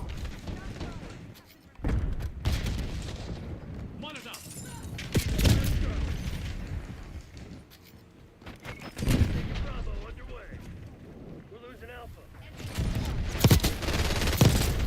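Gunfire in Call of Duty: Black Ops 6 multiplayer, repeated loud bursts and single shots scattered across the stretch with booms and impacts, while a player talks over the action.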